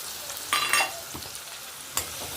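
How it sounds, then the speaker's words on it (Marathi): Rawa upma with salt and chili sautéed in a pan: a few spatula scrapes and stirring clatters over a low, steady sizzle, close and short. "थोडेसे याला परतून घ्यायचे"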